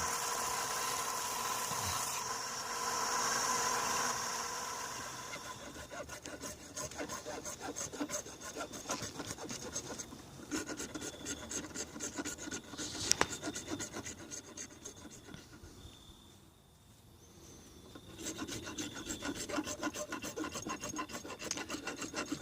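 A rasp files a knife handle of Corian and copper in long, repeated scraping strokes, fairly quiet and close, with a short pause near the end before the rough rasping resumes.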